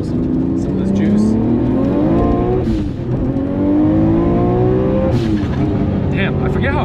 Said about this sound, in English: I forget how high this thing revs